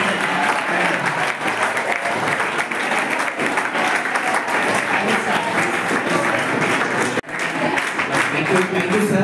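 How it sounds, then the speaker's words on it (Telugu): Students at a college program stand and clap for a birthday with loud, dense applause that runs continuously, breaking off briefly once before resuming, with voices mixed in. "అందరూ పెద్దగా నిలబడి క్లాప్స్ కొడుతూ"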